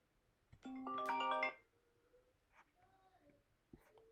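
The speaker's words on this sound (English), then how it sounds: "Sorry about the phone ringing." A phone ringtone chirps once in a short melodic burst indoors, fairly clear, followed by faint scattered room noises and quiet shuffling.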